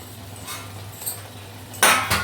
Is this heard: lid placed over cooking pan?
yes